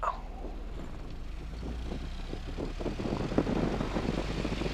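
A light airplane's engine drones steadily and loudly during a ground run-up check with the parking brake set, a continuous propeller roar that swells slightly toward the end, with no talk over it.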